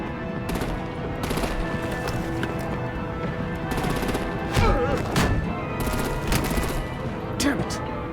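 Heavy artillery and automatic gunfire in the Batman: The Enemy Within video game, a dense barrage of repeated shots and bursts under a continuous roaring bed, with voices speaking over the fighting.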